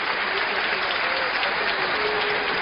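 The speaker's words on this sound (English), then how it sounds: "Crowd acknowledging what a good tournament they've had." A large crowd at a badminton championship applauds in a dense, continuous wash of clapping, loud and sustained throughout with no break.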